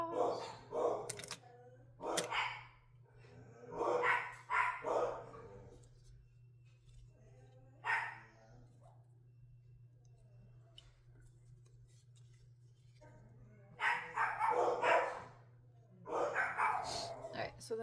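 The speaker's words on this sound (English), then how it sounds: "excuse my dog." A dog barking in bursts of several loud yaps indoors, with pauses between, over a steady low electrical hum during a sewing session, with a person speaking nearby.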